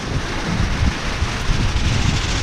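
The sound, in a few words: strong wind blowing at a house building site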